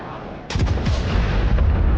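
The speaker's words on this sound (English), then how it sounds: "HIMARS destroys the first target." HIMARS rocket artillery strikes a convoy: a sudden loud blast, followed by a rapid cluster of sharp detonations and a sustained rumbling roar.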